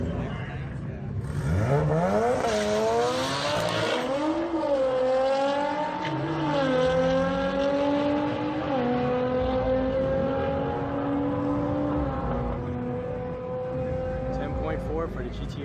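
At a drag strip a Nissan GTR faces a Honda Civic, engines revving hard with rising, shifting tones and repeated gear changes as the cars launch and pull away, loud, with an announcer's voice over them.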